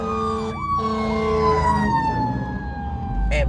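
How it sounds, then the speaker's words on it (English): An ambulance siren wails as it passes a car, its rising and falling tone loud and near, then fading under engine rumble before a final sharp burst. "Ambulance had to pass."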